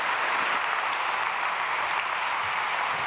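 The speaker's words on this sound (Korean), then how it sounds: "박수로 환영해 주시길 바랍니다." Audience applause welcoming a film director invited to speak at a church prayer gathering for peaceful reunification, a dense steady wash of clapping that holds evenly loud throughout without letting up.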